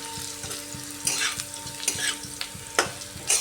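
Cubed potatoes sizzle as they fry in a pan over a gas flame turned up to full heat, with a steady crackle, regular soft stirring scrapes and a few brighter spatters.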